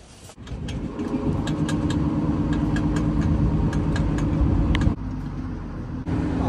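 A motor launch engine on the Ganges at Kolkata sets off with a steady, loud, low rumble that holds throughout, dips briefly near the end, then resumes.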